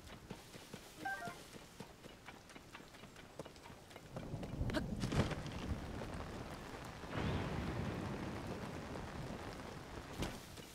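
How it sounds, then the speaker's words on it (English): Downpour and thunderstorm in Zelda Tears of the Kingdom: a soft steady rain hiss that swells into heavy, rumbling thunder bursts midway, then again later, with no voices. "God, I can't believe it rained so hard."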